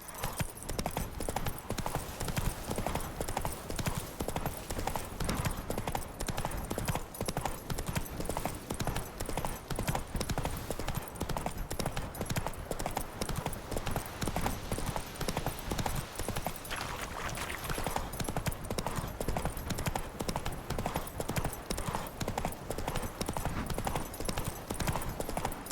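Horse hooves gallop in The Witcher 3 video game, a steady, continuous clip-clop that runs loud and close throughout, with an occasional brief voice over it.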